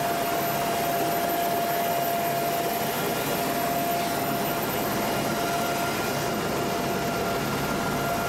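Helicopter hovering during a winch rescue at sea, its steady loud rotor and turbine roar filling the scene with a constant broadband rush and a sustained high whine, with no voices.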